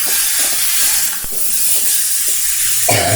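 Chunks of sweet pumpkin frying over a high flame in a pan, giving a steady loud sizzle with soft stirring scrapes throughout and a brief louder clatter near the end.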